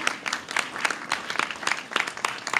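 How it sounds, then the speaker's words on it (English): Audience applause at an announcement event with the Virginia governor, a thin, uneven patter of clapping from a modest crowd, individual claps popping out in a loose rhythm at low level. "Another round of applause for Josh."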